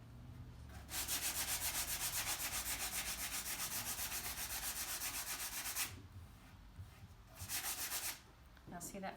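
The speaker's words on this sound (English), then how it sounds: "We have a sanding pad here, so on half of this I'm going to sand it." A sanding pad rubs hard over a wax-finished wooden surface in loud, continuous rhythmic strokes. It stops briefly near the end, then gives one more short burst of scrubbing.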